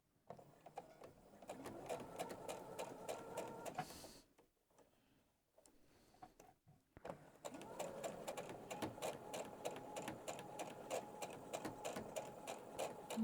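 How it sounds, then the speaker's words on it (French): A sewing machine stitches a piano-key quilt border at a calm, steady pace, with a fast rhythmic needle clatter that stops for a short pause and then starts again at the same even speed. "Et je vais coudre jusqu'en bas, tranquillement."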